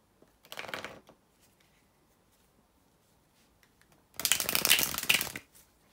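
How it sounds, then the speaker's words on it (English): A deck of tarot cards is shuffled close to the microphone in two rustling, riffling bursts, a short one at first and a longer, louder one after a quiet pause. "bear with me a second, guys, to shuffle the tarot cards"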